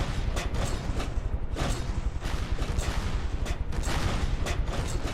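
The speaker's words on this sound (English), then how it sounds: "we'll continue to give them broadsides here" Warship guns fire broadsides in the naval combat game From the Depths, a rapid, dense series of booming shots that rumble continuously throughout.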